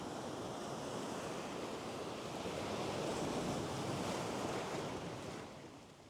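Ocean surf crashes and washes continuously along a beach during stingray fishing, a steady broad roar of breaking waves mixed with wind buffeting the microphone, fading slightly at the end.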